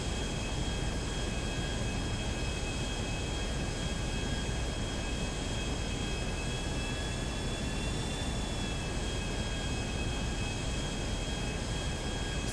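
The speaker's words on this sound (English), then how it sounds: "there's the Vestra, the plane we use for Gfred survivals" Vestra plane engine in GTA 5, a loud, steady jet whine with sustained tonal drone that shifts slightly in pitch midway, filling the whole stretch without talk.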